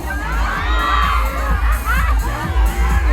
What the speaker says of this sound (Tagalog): Isigaw nyo.